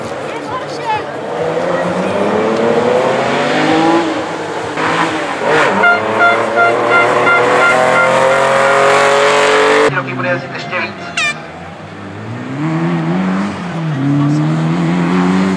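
A rally car on the track at the Barum Rally Zlín 2014 historic rally, its engine revving hard and loud with rising pitch sweeps through repeated gear changes, a commentator talking over it throughout.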